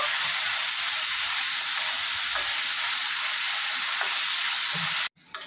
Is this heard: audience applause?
no